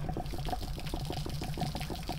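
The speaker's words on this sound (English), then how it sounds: "now that water can really come out of there" Water gushing steadily from an Atwood RV water heater after its high-pressure relief valve is flipped open, a continuous loud splashing pour with no talk.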